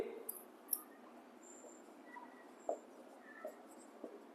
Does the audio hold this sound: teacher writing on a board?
yes